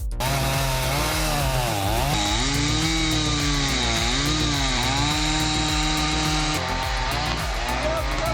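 A big chainsaw cuts into a tree with a loud, continuous engine whine. The pitch dips and rises again and again as the chain bites and the revs bog down and recover, close up and without pause.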